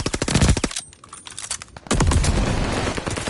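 Rapid automatic gunfire rattles loud and close in a competitive team shooter match, pausing briefly before a second dense burst erupts and keeps going.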